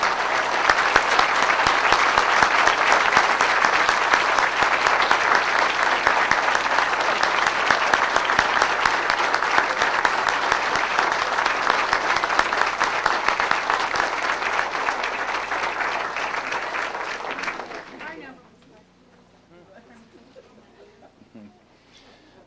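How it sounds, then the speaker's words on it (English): Rousing audience applause at a hall of fame induction ceremony honoring an inductee class, a dense sustained roar of many hands clapping in a hall for about eighteen seconds before abruptly fading to quiet room tone. "a rousing applause for the class of 2003"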